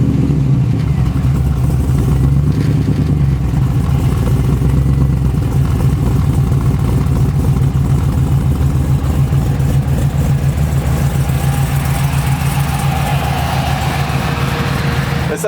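A supercharged LS V8 in a 1971 Chevrolet C10 runs through a Borla Pro XS stainless exhaust, a loud, deep, steady burbling idle close by that thickens slightly toward the end, without any talking over it.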